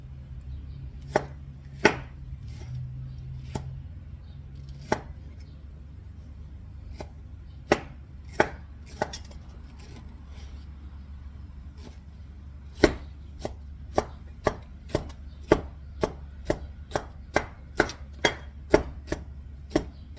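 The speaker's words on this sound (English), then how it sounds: "we're going to chop this up as well" A knife chops food on a cutting board for a bread pudding, making a series of sharp, close knocks. They start sparse and irregular, then fall into a faster, steady run near the end. No one speaks.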